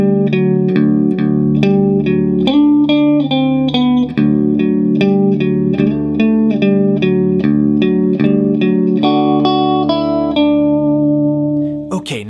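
Electric guitar plays the intro riff of a song as a beginner lesson example, a steady run of picked single notes and repeated melodic phrases, loud and close with an effects-processed tone and no talking.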